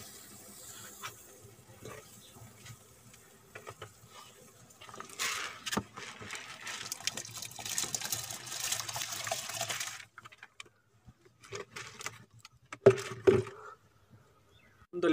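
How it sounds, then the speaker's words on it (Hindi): Sella rice poured into a large pot of boiling water for pulao, giving a rushing, splashing pour for several seconds followed by quieter bubbling and a few clanks, with no voices. "अब इसमें हम चावल डालेंगे।"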